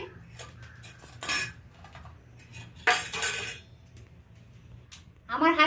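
Cardamom and a cinnamon stick stirred in hot oil in a pan, with quiet background hiss broken by several sharp metal spoon scrapes and clinks against the pan.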